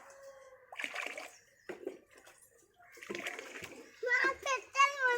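Water is poured into a bird drinker in a steady splashing stream, mixed with children's and adults' voices talking over it nearby.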